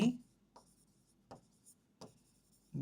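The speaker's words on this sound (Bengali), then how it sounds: "সো চলুন আমি প্রশ্নটা লিখি।" Pen or chalk writing out a question, heard as a few short scratchy strokes separated by pauses, close and quiet, with brief bits of voice at the start and end.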